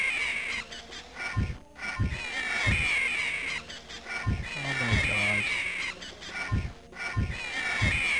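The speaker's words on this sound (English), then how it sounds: "get ready to fight hundreds more owls." Owl enemies in the game Anvil of Dawn give repeated harsh, crow-like squawks and cries in short bursts across the stretch, layered over a steady game background with no talking.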